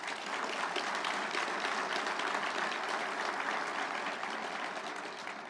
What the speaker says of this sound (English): How about a hand of applause for our CNO?